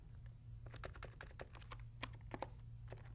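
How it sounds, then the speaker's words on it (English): Computer keyboard typing, a rapid irregular run of light key clicks close by and quiet over a low steady hum, with no talking. "So I'm going to do some typing here."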